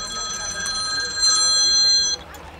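A telephone rings with a bright electronic trill repeating for about two seconds, then cuts off, with Greek voices talking in the background of a home.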